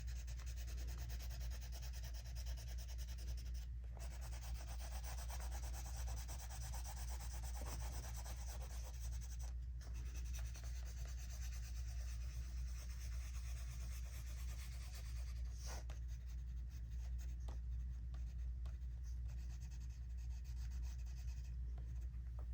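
Neocolor II wax pastel rubbing across paper while blending violet into another color, a continuous soft scratchy stroking sound, close and steady, with a constant low hum underneath.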